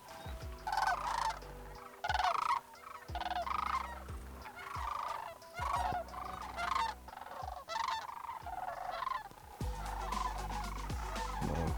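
Sandhill cranes calling as they fly in over decoys during a hunt, a loud chorus of repeated rolling, rattling calls in bursts throughout, close and continuous with no talk.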